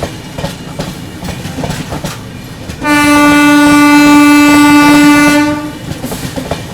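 Avadh Express passenger train departing past a station: a loud, sustained horn blast of about three seconds sounds close over the rumbling, clacking wheels of passing coaches, which keep rolling after the horn stops.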